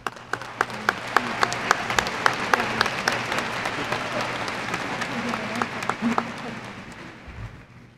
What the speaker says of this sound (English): I would like to ask Christopher's parents to please stand as well for a round of applause.